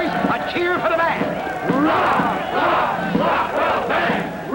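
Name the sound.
crowd cheering for the band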